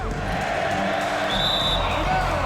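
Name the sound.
home crowd chanting in NBA 2K22 video game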